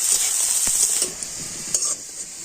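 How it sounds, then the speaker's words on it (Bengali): Finely chopped onion and garlic frying in oil, a bright steady sizzle with a few scraping stirs and light clinks of a spoon against the pan, close and alone. "পেঁয়াজ আর রসুনটা একটু লাল করে ভেজে নেব।"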